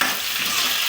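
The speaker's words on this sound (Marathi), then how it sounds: "हे फ्राय होत आहे" Brinjal frying in a pan, a loud close steady sizzle with faint stirring scrapes, no talk over it.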